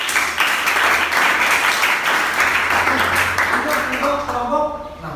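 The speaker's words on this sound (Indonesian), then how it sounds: "Tepuk tangan dulu untuk kelompok ini." A classroom audience applauds a student group with several seconds of steady, close clapping that fades toward the end, with a few voices talking as it dies down.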